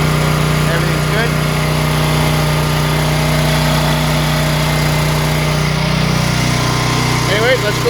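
An Ice Storm 9000w generator runs close by with a loud, constant engine drone and a steady high-pitched tone that holds unchanged throughout, with faint voices underneath.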